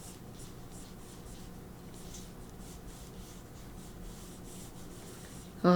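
Pencil drawing flowers on paper, a soft continuous scratching and rubbing in short repeated strokes, quiet and close, ending in a brief tonal blip.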